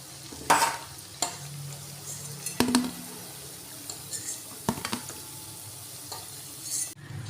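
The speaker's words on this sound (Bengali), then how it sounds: "আমার এই বালুশইগুলো ভাজা হয়ে গেছে।" Balushahi sweets fry in oil with a soft low sizzle, broken by a few sharp clinks and scrapes of a utensil stirring in the pan, moderately quiet and without voices.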